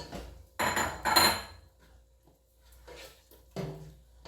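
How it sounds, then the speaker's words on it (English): A spoon scrapes and clanks against a cooking pot while dry fish is stirred for Nigerian egusi soup, with several loud metallic bursts close by and quieter scraping between them. "So I'm going to turn my dry fish in. Stir."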